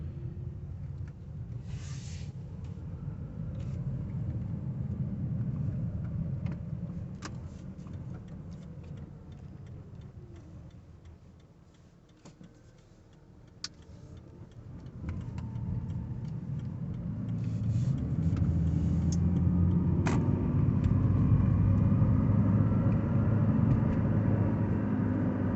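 A Toyota Prius hybrid drives on battery power with its engine off, giving a quiet, steady low road and tyre rumble that dips midway, then swells louder, with faint ticking and no engine note.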